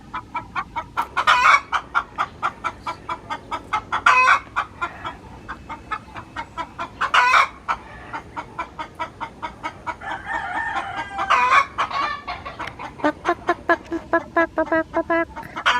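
Chickens cluck repeatedly and a rooster crows several times at a rural provincial house, a busy, fairly close barnyard chorus with steady pulsing calls throughout.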